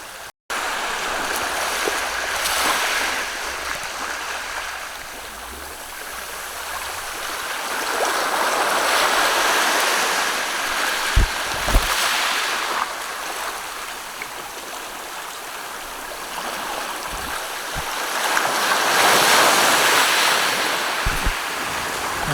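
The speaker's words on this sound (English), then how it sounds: "we're at high tide and the water has just come to within near enough a foot of my feet" Waves at high tide washing onto a shore, rising and falling surges of surf with foamy hiss, mixed with wind buffeting the microphone and a few low thumps, close and continuous.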